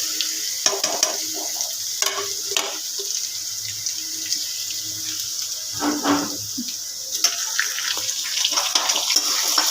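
Ginger and spices crackle in hot oil in a pan, with intermittent stirring scrapes over a steady sizzle; no voices.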